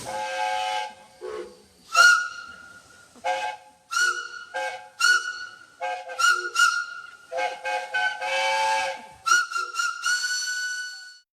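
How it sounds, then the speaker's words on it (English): North York Moors Railway steam locomotives gathered at Grosmont station blowing their steam whistles together, a series of loud overlapping shrill blasts in varied pitches with brief pauses between them. "The North York Moors Railway engines gathered at Growont Station to blow their steam whistles together"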